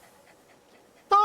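Lizard doggo creatures in the Satisfactory video game give a short, loud burst of panting with whining tones at the very end, after about a second of near silence.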